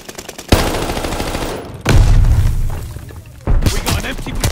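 Call of Duty Vanguard beta battle on PS5 with an M1A1 Thompson: loud booming grenade blasts and bursts of gunfire arrive in three heavy waves, each a sudden thump followed by rumbling, with speech mixed in.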